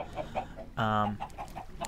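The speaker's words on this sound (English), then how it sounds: "Chickens lay eggs, then every once in a while water comes and washes them down." Chickens clucking on an egg farm in the Minecraft video game, with soft repeated clucks and one louder drawn-out squawk near the middle, close and clear.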